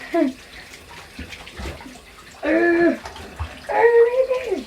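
Water runs into a bathtub while dogs are bathed, a steady splashing wash in the background as people talk over it, with a few louder vocal bursts.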